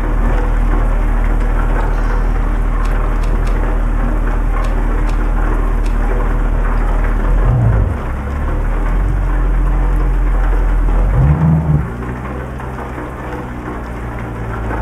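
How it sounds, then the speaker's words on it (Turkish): Steady rain in Euro Truck Simulator 2 hisses and patters continuously, with a low rumble of thunder rolling in partway through. "Yağmurumuz da başladı."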